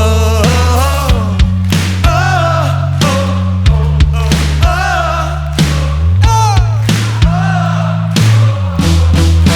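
A large crowd sings a melody together over a loud band at a live concert at Tanzbrunnen in Cologne, the voices swelling in long sustained notes with drums hitting throughout.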